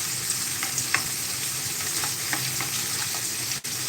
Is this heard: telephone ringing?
no